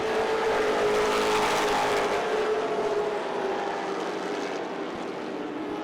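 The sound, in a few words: late model race cars racing at Irwindale Speedway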